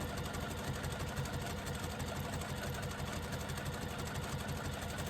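A sewing machine runs a steady, continuous line of stitches along a fabric strap, its motor hum and rapid needle chatter close and even with no pauses.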